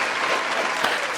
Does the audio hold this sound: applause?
yes